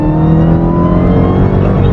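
A Dodge Charger Hellcat SRT engine revs loudly and up close on a downshift, a continuous deep roar holding steady through the short stretch.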